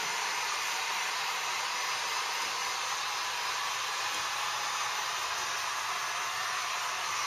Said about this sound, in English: At first I'm going to just run the heat gun over the very peak.